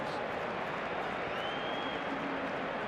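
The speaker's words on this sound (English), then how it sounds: "There's a loud round of applause there for the fact that Elche managed to play their way out of trouble" Stadium crowd at a Spanish league football match between Real Madrid and Elche gives a loud, sustained round of applause, a dense, even roar of clapping and crowd noise that fills the moment without breaks.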